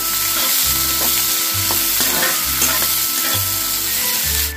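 Large chopped onion frying in a pan for palak paneer, a loud continuous sizzle with rhythmic stirring strokes about every second, close and steady throughout, no voices.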